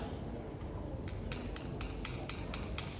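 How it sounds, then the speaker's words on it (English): A scuba diver underwater in a tunnel clicks metal bolts together as a signal, giving about eight sharp, evenly spaced taps against a steady, noisy underwater rumble and bubbling. "I'll get him to tap these bolts together for you again"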